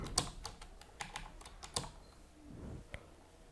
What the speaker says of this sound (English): click on this search icon and type here internet option